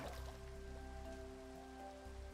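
Rain in the video game Minecraft falls as a soft, continuous patter, faint and steady for a couple of seconds under sustained background tones, with no talking.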